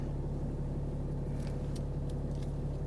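A 2018 RAM 2500 Lone Star 4WD pickup with a stock 6.7L Cummins diesel engine idles in a steady, even low rumble, close and continuous, with no one speaking.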